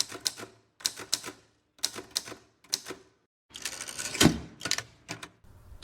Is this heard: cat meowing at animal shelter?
no